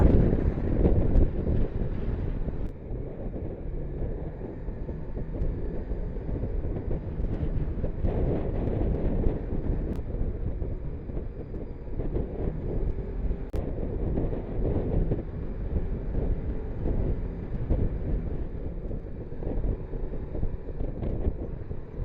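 Strong wind buffets outdoors in southeast Manitoba, a loud continuous low roar rumbling across the microphone for over twenty seconds with no voices.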